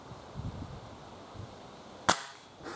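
A Webley Osprey .22 spring-powered air rifle fires a single sharp, loud crack close by, followed by a brief spring clatter and then quiet room tone.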